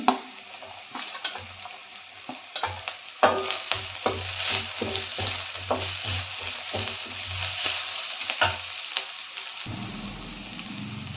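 Chopped carrots and long-sliced ginger stir-fried in a pan, with crackling sizzle and repeated sharp scrapes and clacks of a spatula stirring throughout, steady and close.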